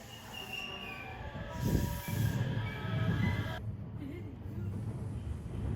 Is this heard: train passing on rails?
yes